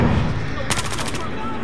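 A submachine gun fires in the video game Battlefield Hardline, a quick rattling burst of about six rapid shots over constant loud game background noise.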